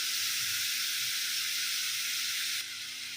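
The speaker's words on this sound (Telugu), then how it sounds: "తర్వాత సేమ్ ఆయిల్లో చాలా సన్నగా కట్ చేసేసుకున్న దోసకాయ అండి" Thinly sliced, deseeded yellow cucumber frying in oil, a loud steady hiss of sizzling that holds constant and drops slightly in level near the end, with no voices.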